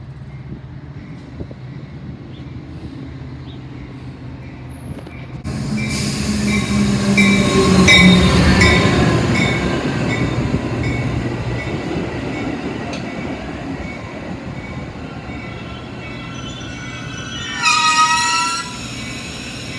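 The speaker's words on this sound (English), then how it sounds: "That nickel's gonna get crushed by the train." Metra commuter train passing over a nickel on the rails, a loud, close rumble of wheels and cars rolling by for many seconds, with metallic squeals and clicks and a brief wheel squeal near the end, without talk.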